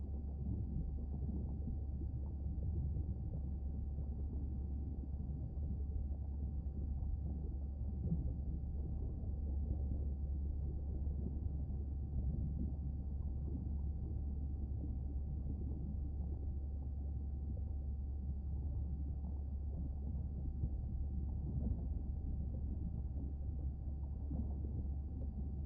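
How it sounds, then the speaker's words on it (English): Whale calls in the underwater video game Beyond Blue, faint low moans and rumbling drifting through a steady deep ocean drone for the whole stretch, distant and muffled, with no speech. "We can watch the baby whale together."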